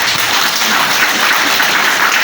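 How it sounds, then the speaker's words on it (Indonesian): Audience applause for the national police chief at a peace ceremony gathering in Ngada, a steady dense wash of many hands clapping together, loud and continuous throughout with no pauses. "Mari kita tepuk tangan untuk Bapak Kapolri."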